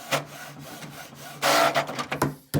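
A Canon PIXMA TS6520 inkjet printer feeds and prints a page close by, with whirring motor passes, a loud sustained burst of mechanical grinding and clicking as the sheet moves through, then a final clunk.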